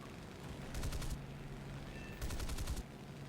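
Two short bursts of aircraft machine gun fire in War Thunder, each a quick rattle of several rounds over a steady engine drone, the second burst slightly longer.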